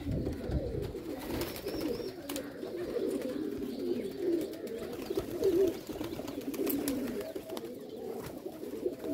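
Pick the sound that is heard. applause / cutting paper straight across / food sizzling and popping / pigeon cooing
pigeon cooing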